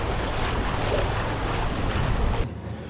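Low rumbling boat engine at idle, moving at 3 knots, under wind and rushing water, steady and fairly loud, with the wind noise dropping away near the end.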